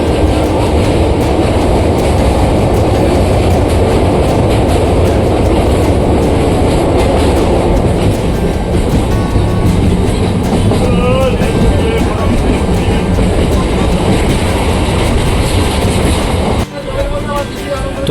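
A MEMU express train rumbles loudly and steadily along the rails, with rhythmic clatter and a faint squeal, the roar easing briefly near the end as it enters Bandel Junction.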